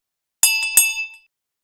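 A small bell rings with two bright, clear metallic dings in quick succession, each leaving a short shimmering ring that fades within about a second, alone against silence.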